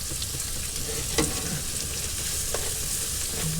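Seasoned food sizzles and crackles in a pan in a tiny kitchen, a steady close frying hiss with a few sharper pops and stirring clicks, no talking.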